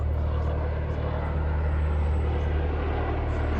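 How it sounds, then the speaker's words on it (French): Helicopter passing overhead, a steady loud rotor and engine drone that holds evenly throughout with no talking. "Un nouvel hélico."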